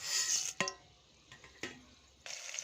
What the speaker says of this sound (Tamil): கடுகு பொறிஞ்சிச்சு